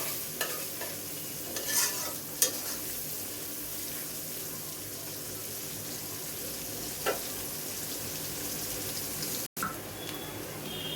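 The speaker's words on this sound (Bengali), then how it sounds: "তো গাইস আমার পেঁয়াজ ভাজা শেষ" Onions frying in a pan for polao and roast, a faint continuous sizzle with a few brief scrapes and clinks of a utensil, quiet and steady with no speech.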